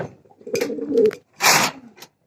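Pigeons coo in a low, throaty warble close by, a few rolling calls with short gaps, ending with a brief breathy burst.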